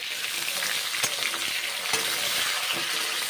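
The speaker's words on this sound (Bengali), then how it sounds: "তারপরে মাশরুমগুলো ভেজে নেব" Mushrooms frying in hot oil in a home kitchen pan for a vegetarian curry, a steady dense sizzle throughout with a few brief stirring clinks, no voices.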